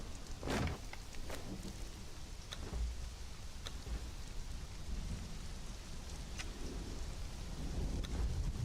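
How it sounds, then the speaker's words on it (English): Steady rain hisses throughout a Conan Exiles storm, with a sharp thunder crack near the start and softer rumbles rolling underneath, all without talk. "Oh, I love that thunder."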